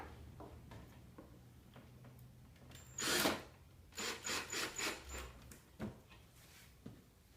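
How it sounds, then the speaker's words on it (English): A quiet room tone is broken by a brief burst of drilling into a wooden drawer, then a series of short, rhythmic drill pulses, a few clicks, and silence. "Then I can remove the hinge and finish drilling."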